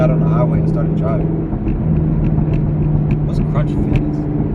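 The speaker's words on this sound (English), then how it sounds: "I just got on the highway and started driving." A Chevrolet Camaro SS cruises along a highway with a constant loud low engine drone and road rumble filling the cabin, and a voice talks over it.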